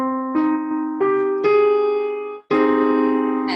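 Sustained tones on an instrument like an electric piano build a Hirajoshi pentatonic chord note by note, then sound together in one final strike.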